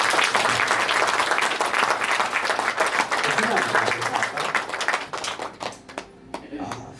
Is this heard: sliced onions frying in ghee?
no